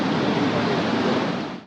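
The Netravati River rushes in a loud, unbroken wash of flowing water that fills the short moment before cutting off abruptly.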